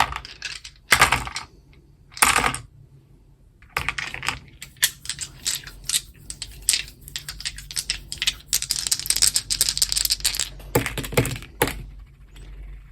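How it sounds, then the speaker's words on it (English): Three dice are rolled for a tarot reading, clattering and rattling in quick bursts that then run into a longer stretch of close, busy tumbling. "we're rolling 3 dice for you"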